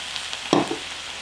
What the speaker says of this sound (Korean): 이제 어느 정도 볶아줬으니까 물을 좀 넣어줍니다.